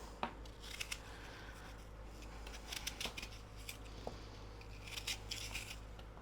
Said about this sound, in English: We're going to just dice up this apple.